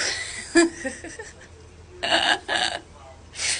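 A few short burps come in quick succession, fairly quiet and close, with brief pauses between them.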